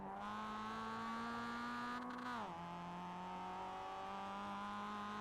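Mazda MX-5 engine droning steadily in iRacing at Oulton Park, a loud continuous tone that dips briefly as the revs fall midway, then holds strong again without any talk.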